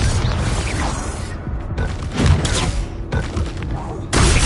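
A Bombarda blasting spell in the game Hogwarts Legacy, loud booming blasts and thuds in quick succession amid clattering battle effects, with brief gaps between the eruptions.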